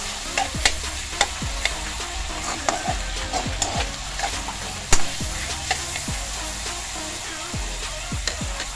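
Bitter gourd (ampalaya) being stirred in a frying pan, a spatula scraping in a steady rhythm of close, distinct strokes over a continuous sizzle, with no voices.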